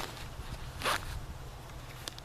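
One pull zip on a Camelbak Squadbak water tanker is drawn open in a single short, quiet zipping rasp, with faint handling clicks and rustles around it.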